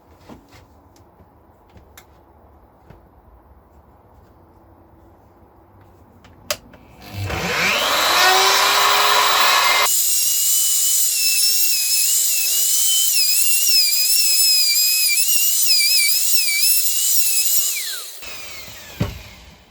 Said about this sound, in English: I've got my, you know, bearing guided router cutter in here,